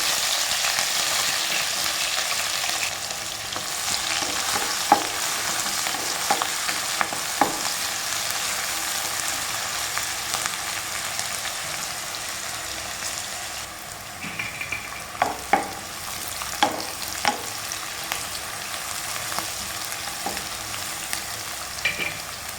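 Shallots, garlic and green chillies frying in hot oil after mustard seeds pop, a steady close sizzle broken by repeated scraping stirs of a spoon against the pan.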